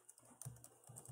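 Typing on a computer keyboard: a quick run of very faint, soft key clicks in a quiet room.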